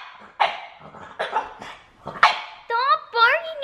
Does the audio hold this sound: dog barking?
yes